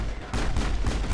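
Rapid gunfire in the video game Mass Effect 1, a dense burst of repeated loud shots filling the short moment with no talk over it.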